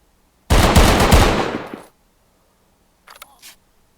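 Machine gun fire in the tactical shooter Zero Hour, a loud close burst of about a second and a half, then a short fainter metallic clatter after a pause, with no talk.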